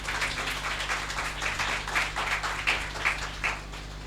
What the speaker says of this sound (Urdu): آئیں خدا یسوع مسیح کے جلال کے لیے زوردار تالیاں بجائیں گے